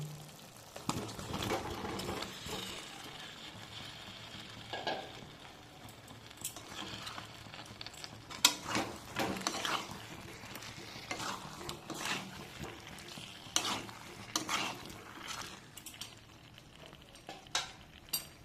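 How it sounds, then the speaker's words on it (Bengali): Fried potatoes are added to a pan of cooked-down spiced masala for Bengali aloo dum and stirred in. A soft sizzle runs underneath while a spatula scrapes and knocks against the pan at irregular intervals. "এখানে আমি দিয়ে দেবো ভেজে রাখা আলুগুলো।"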